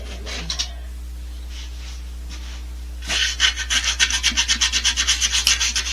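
Rhythmic hand sanding on a wooden bowl: a few scattered rubs, then quick steady back-and-forth strokes, close and fairly loud.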